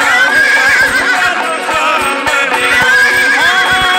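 A horse neighs and whinnies loudly and close, its shrill, wavering calls repeating over a few seconds with faint hoof-like knocks beneath.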